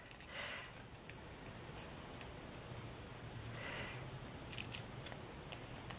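Scissors snip through a paper napkin in a quiet setting, with a few soft crisp cuts spread across several seconds and a quick cluster of snips near the end.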